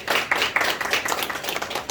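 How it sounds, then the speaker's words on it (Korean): A church congregation claps together during a sermon, a fairly close, steady patter of many hands with uneven accents, holding at even loudness for about two seconds. "좋으신 하나님께 박수 한번 쳐드리시고,"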